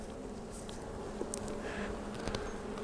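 Field bees buzz steadily at a hive entrance, a dense continuous hum with occasional louder passes of individual bees flying close by.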